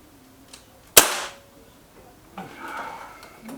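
A Beeman 1357 air pistol with a sticking trigger fires a pellet. It gives one sharp, close crack followed by quiet handling noise and a faint rustle.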